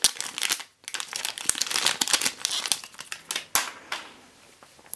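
Plastic packaging crinkling and tearing as a UK power cord for a late 2015 5K iMac is unwrapped, close and busy with sharp rustles and snaps in quick irregular bursts.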